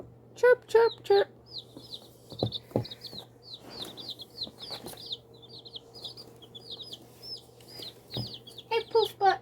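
Baby chicks and hens cheeping and clucking nearby, a steady run of high, rapid chirps with bursts of louder clucks, a few soft thumps and a low steady hum underneath.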